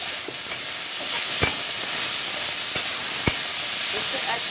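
Bitter gourd frying in a pan with turmeric and salt: a steady, close sizzling hiss throughout, broken by a few sharp clicks of stirring.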